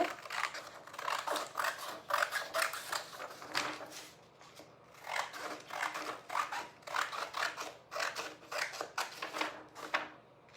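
Scissors snipping through sheet music paper to trim off the margins for a folded Christmas ornament, a close run of crisp cutting strokes in quick uneven bursts with brief pauses, no talking.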